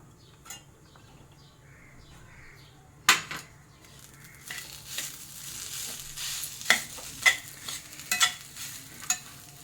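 Sweet mawa for Holi mava samosa filling fries in a pan, a soft sizzle that builds as a utensil stirs and scrapes against the pan with repeated clacks, close and without speech.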